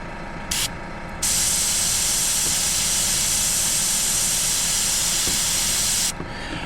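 An airbrush sprays white paint dots onto an RC car body, a steady close airy hiss running for several seconds after a couple of brief short bursts.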